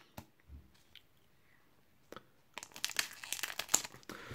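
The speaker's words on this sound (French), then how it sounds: "J'essaie de faire attention, j'ai pas trop envie de découper les boosters." Pokémon booster pack wrappers being opened by hand, with a few isolated clicks and crinkles at first, then a dense burst of crackling, tearing foil close up, no talking.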